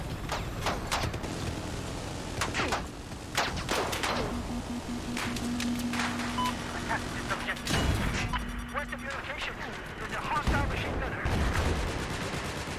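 Battlefield 4 combat with scattered gunshots cracking at varying distances through a dense, busy din, including a few loud nearby bangs, with voices talking over the battlefield noise.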